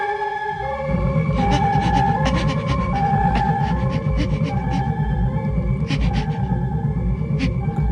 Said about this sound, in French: Ce passage-là, avec la sirène déformée, il fuit la police